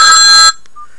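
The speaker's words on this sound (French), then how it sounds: "On va vous montrer les sonneries." Ringtone from a Mobiho Essentiel Classic mobile phone: a bright, loud electronic melody with steady tones that plays for about half a second, then cuts off abruptly to near silence.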